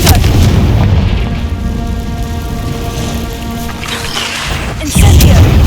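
The Confringo blasting spell in Hogwarts Legacy explodes with heavy booms: a loud rumbling blast, a sustained noisy tail under game music, then another sharp, forceful burst near the end.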